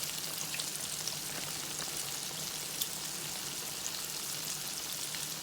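Ranch-seasoned ribs frying in oil in a pan give off a steady, dense sizzle with scattered pops and crackles, close and constant throughout, with no voices.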